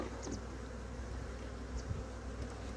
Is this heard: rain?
no